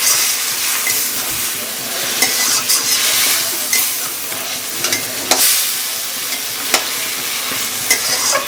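Masala spice paste with potatoes frying in a pan for tilapia curry, a steady close sizzle with repeated scraping and stirring strokes of a spatula against the metal.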